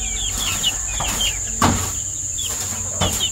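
Roosters cluck in short, repeated calls over steady insect-like buzzing, with an occasional sharper burst rising close by.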